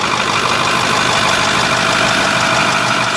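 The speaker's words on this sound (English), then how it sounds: "It's just a very smooth running engine." A 2010 Ford F550 Super Duty XL flatbed truck's 6.4 liter Powerstroke diesel engine idles steadily and loudly up close, a smooth continuous rumble with no talking.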